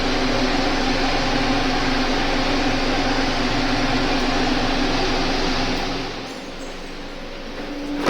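Potato patties frying in hot oil, a steady dense sizzle that holds loud and even for about six seconds, then dips slightly softer before rising again at the end.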